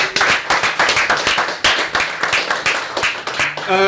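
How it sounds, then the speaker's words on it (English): A round of applause for the team who built the DiRT racing game, with dense group clapping close by and a voice briefly cutting in near the end. "Round of applause, guys."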